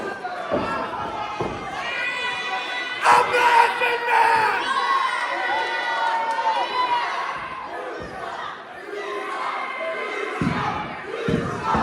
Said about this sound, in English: These fans are trying to get under the skin of Creed